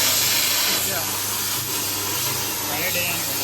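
A plasma cutter cutting metal, giving a loud, steady, harsh hiss with a broad spray-like roar that holds almost unbroken close by, while people talk over it.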